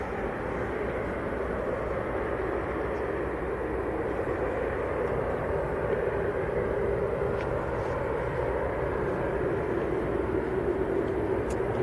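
Qatar Airways airliner taxiing in the distance at Manchester Airport, a steady, broad low roar of engine noise that holds evenly throughout with no talking.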